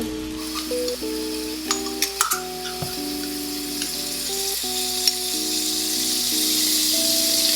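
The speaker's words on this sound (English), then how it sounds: "Sauteing the veggies in one pan, and then just browning these in this pan." Vegetables sauté in one pan while something browns in another, a steady close sizzle and frying hiss with occasional utensil clinks and rattles, and a melodic tone line running underneath throughout.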